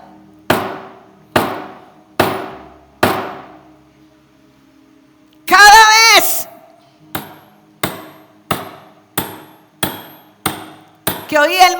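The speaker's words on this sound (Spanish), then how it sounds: "Cada vez que él oía el golpe de la madera" A hammer strikes wood in a carpenter's workshop, four evenly spaced sharp knocks, a pause and a short scraping burst, then a quicker run of lighter taps; a voice speaks briefly.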